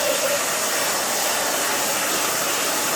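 A hair dryer runs steadily at close range while drying a freshly cut soft pixie cut, giving a constant broadband whoosh with no breaks or speech.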